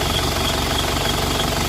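An Isuzu Panther diesel engine idles steadily with a loud, continuous knocking rumble and no pauses, while its idle speed is being adjusted.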